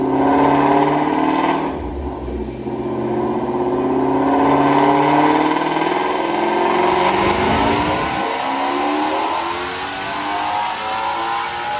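A 2017 Ford GT350 with a Whipple supercharger, running on E85, makes a loud dyno pull, the engine note climbing steadily in pitch as it accelerates, then dropping off abruptly as the run ends and winds down.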